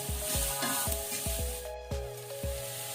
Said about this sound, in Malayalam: സവോളയും നന്നായിട്ട് വാടി കിട്ടണം